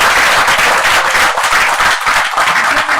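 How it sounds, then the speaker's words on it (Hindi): Loud, sustained applause from a seminar audience, dense clapping filling the whole stretch without a break. "तो आपके लिए पहले जोरदार ताली हो जाए।"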